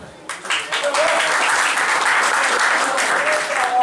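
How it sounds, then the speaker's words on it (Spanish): Loud, close crowd applause at a football club shirt presentation swells up after a brief quiet start and continues strongly, with faint cheers mixed into the clapping. "aplauso para ustedes"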